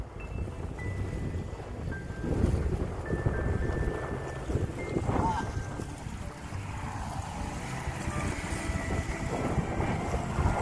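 Strong wind on a boat fishing for tarpon off Islamorada, Florida: a steady loud rush and buffeting against the microphone, with water and engine rumble underneath and faint whistling tones.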